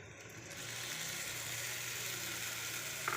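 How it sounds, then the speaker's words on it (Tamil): Ground tomato is poured into onions frying in a pan, setting off a steady close sizzle that swells after a brief quieter start and holds evenly, ending with a small clink and no speech. "அதனால் நம்ம தக்காளி அரைச்சதை ஊற்றிடுவோம்"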